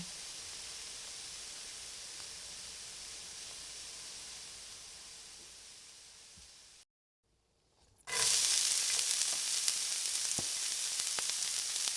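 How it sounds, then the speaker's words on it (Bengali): Raw mango sweet pickle with homemade pickle spices cooks in a hot pan. A faint hiss drops to silence, then a loud, close sizzle rises, with no speech. "বাসায় বানানো আচারের মশলা দিয়ে সুন্দরভাবে আবারও একটু নাড়াচাড়া করে বারবার মশলাগুলো মিশিয়ে দিব আমের সঙ্গে"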